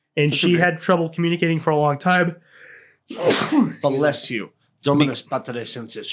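A single sharp sneeze bursts out around the three-second mark in the middle of continuous conversational talk, close and loud, with the voice resuming right after it.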